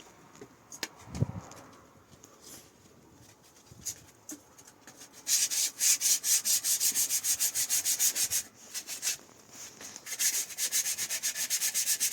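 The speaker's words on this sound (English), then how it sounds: "Next came sanding." Rhythmic, steady sanding strokes rasp against a wooden axe handle, loud and close, after a few quieter knocks and handling noises at the start.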